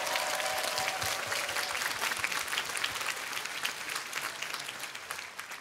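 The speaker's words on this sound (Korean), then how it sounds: "큰 박수 다시 한번 부탁드리겠습니다" A concert audience applauds the conductor and players of a Korean traditional gugak orchestra. The steady, full-bodied clapping fills the hall and continues throughout.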